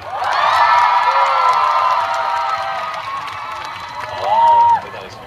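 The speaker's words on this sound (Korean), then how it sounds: "자, 다시 한번 자 박수와 함성 5초간 발사!" A large concert audience claps and cheers loudly for several seconds, a dense roar of applause and shouting that fades slightly, then swells briefly before cutting off.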